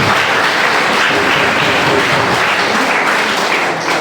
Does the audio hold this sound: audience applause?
yes